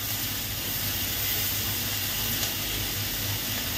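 Food frying in a pan gives a steady, even hiss and sizzle that runs unbroken at a moderate level, with no voices.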